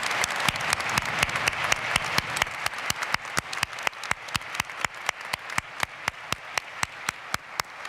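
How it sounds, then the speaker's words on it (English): Audience at a December university commencement ceremony clapping together, a dense, sustained round of applause with crisp individual claps, close and loud throughout with no talking. "How about a round of applause for all those hardworking folks?"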